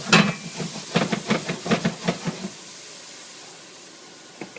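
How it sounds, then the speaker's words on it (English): Onions sizzling in rendered bacon fat at the start of a simple beef chili: a rapid series of close, hissing pulses that fade into a quiet, soft background hiss, with one brief burst near the end. "We have our onions and our rendered bacon fat here."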